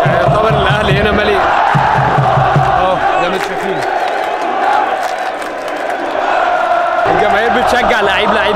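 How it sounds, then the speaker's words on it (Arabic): Al Ahly football fans in a packed stadium chant players' names one by one, a dense, loud, continuous crowd roar with rhythmic shouted chants and whoops throughout. "الجماهير بتشجع لعيب لعيب باسمه"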